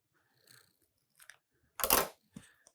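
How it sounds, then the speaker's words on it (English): Scissors snipping the corner off a plastic pastry bag filled for making smoked pig shots: a few faint rustles of plastic, then one sharp, loud cut and a brief softer handling sound. "Grab a scissors. We're going to cut about 1/2 inch down."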